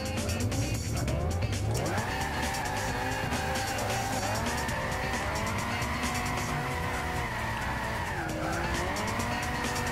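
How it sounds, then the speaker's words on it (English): Car drifting in Gran Turismo 6, a continuous screech of tire squeal over a steady engine note, the pitch sliding and wavering as the slide shifts, loud and unbroken with no talk. "No drift points, just drifting freely here"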